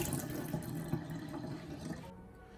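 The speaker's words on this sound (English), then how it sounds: "fill up a bowl of lukewarm water" Lukewarm tap water runs into a bowl with a soft, steady rushing splash that stays quiet and even, then thins out near the end.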